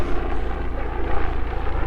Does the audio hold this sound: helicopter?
yes